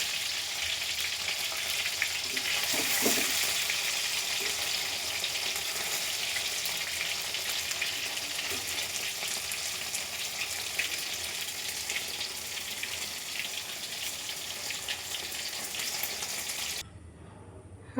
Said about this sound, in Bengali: আলু ভাজা আমার হয়ে গেছে